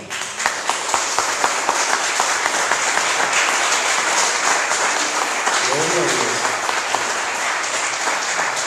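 Church congregation applauding at a reopening service, a steady dense wash of clapping from a crowd with a voice speaking over it.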